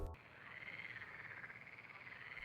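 A small frog croaks in a steady, continuous trill that runs the whole time at moderate level, with no voices over it.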